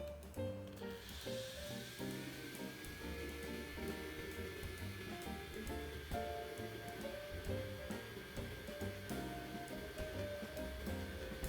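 A StylPro electric brush cleaner spins a makeup brush dry, giving a steady, close whirring hum with a high whine that stays constant for the whole stretch, with no voices.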